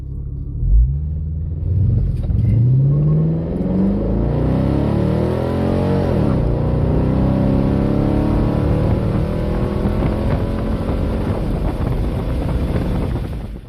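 A stock C5 Corvette accelerates hard down an eighth-mile drag strip, its engine note rising through gear changes in a loud, steady roar with heavy wind rumble and no talking throughout.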